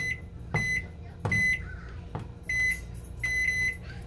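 A convection oven's control panel gives a series of short electronic beeps, single and double, while the timer is set, with button presses and handling noises between them.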